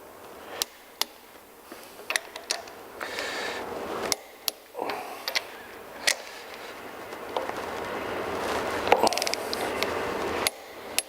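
Torque wrench tightening cylinder head bolts to 110 in a pattern during a cylinder head installation, with sharp ratchet clicks and ticks spaced irregularly across a steady mechanical background, close and moderately loud.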